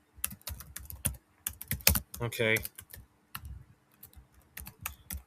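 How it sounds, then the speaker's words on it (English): Rapid bursts of clicky computer keyboard typing as game stats are entered, irregular clusters of keystrokes with short pauses, close and crisp, with a brief spoken word and a short tonal sound in the middle. "This is me typing the stats live for all you people"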